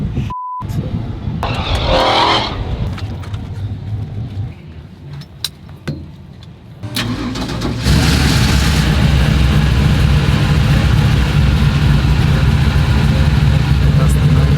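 A roughly 1,000-horsepower nitrous show car engine revs hard and loud, then settles into a sustained heavy roar close by at a car show event, with people talking over it.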